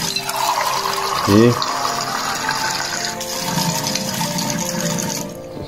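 Spring water pours from a small tap at a monastery into a container, a steady splashing fill. A person speaks briefly over the running water.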